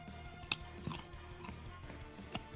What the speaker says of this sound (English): You don't want to hear me chewing.